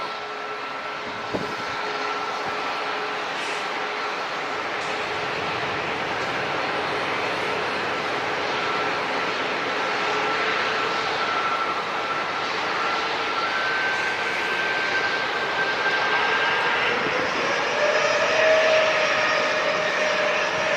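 An Alaska Embraer E175 jet on final approach and landing, with a sustained broad engine roar and a whining tone that swells slightly toward the end, heard at a distance with no talking.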